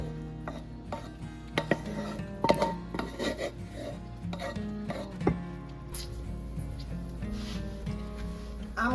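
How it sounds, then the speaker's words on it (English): Boiled cranberries scraped and spooned from a pot into a container, with clinking metal utensils, scraping and knocks on cookware, close and fairly quiet, no talking. "I am going to put them into a container and let them cool."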